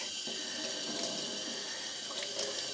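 Tap water runs steadily into a sink, rinsing hand-dyed ice-dyed socks, a continuous close-up rush of water without any speech.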